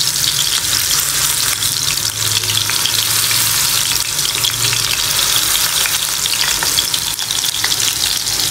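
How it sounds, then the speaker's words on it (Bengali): Mutton kebabs fry in a hot oiled pan, a steady loud sizzle running throughout with occasional scrapes as a spatula presses them down. "আর কাবাবগুলো ভাজার সময় খুন্তি দিয়ে আপনি একটু হালকা চাপ দিয়ে দিবেন"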